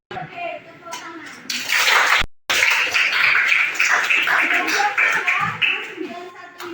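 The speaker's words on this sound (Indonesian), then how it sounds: "Oke, tepuk tangan." Children in a classroom clap together in a dense burst of rapid hand claps that runs for several seconds after a short pause, with voices mixed in around it.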